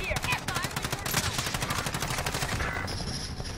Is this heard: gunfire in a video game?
yes